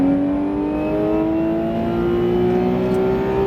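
A Porsche 991 GT3 RS at full throttle on track, its engine note climbing in a smooth continuous rising whine with strong harmonics, loud and close, heard from onboard without talk.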